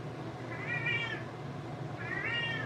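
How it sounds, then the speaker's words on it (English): A cat meows twice, two drawn-out rising and falling cries spaced about a second apart, close by over a low steady room hum with no talking. "This cat really feels entitled to my conversation."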